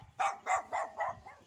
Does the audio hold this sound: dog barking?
yes